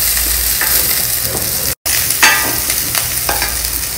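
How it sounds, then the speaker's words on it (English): Chopped onion sautéing in a pan for millet upma, a loud close hiss of frying with soft scraping stirs, broken by one very short gap of silence. "First, saute the onion."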